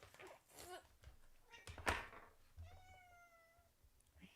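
A house cat lets out a clear, drawn-out meow near the end, after a few soft thumps and bumps in a quiet room.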